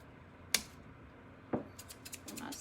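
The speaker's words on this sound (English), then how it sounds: "So I'm gonna cut these pipe cleaners." Scissors snip through pipe cleaners during a Big O Jack O Lantern craft, giving two sharp close cuts about a second apart, followed by fainter rustling and small clicks.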